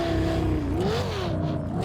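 Lexus LFA engine revving in the video game GTA 5, a continuous loud, high-pitched wail whose pitch dips and climbs as the revs rise and fall, steady throughout.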